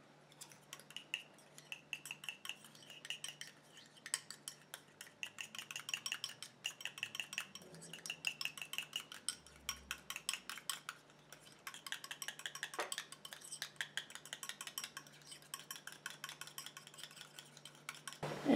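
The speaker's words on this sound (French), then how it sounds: "Et je viens mélanger." A homemade anti-aging night cream is stirred in a small dish, with light, rapid clinks and scrapes of a utensil against the container repeating in quick irregular bursts, faint and close, with no talking.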